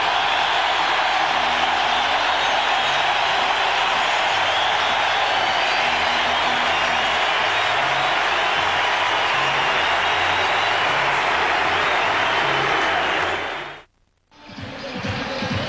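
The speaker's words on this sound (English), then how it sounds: "Listen to this crowd. They love this guy." Large baseball stadium crowd roaring and applauding continuously for Yankees closer Mariano Rivera as he comes in from the bullpen in a 1998 game against the Rangers, a dense sustained wash of cheering that cuts out abruptly near the end.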